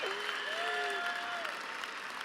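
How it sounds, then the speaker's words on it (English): Applause rises from the crowd at a high school graduation ceremony, a soft, distant patter of many hands beneath a sustained tonal sound, fairly faint and steady throughout. "You should clap for that."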